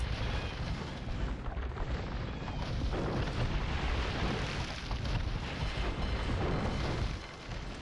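Cannon galleons firing in a naval battle in a real-time strategy game, a dense rumbling barrage of booms and blasts mixed with wind and water ambience, steady and loud with no talking.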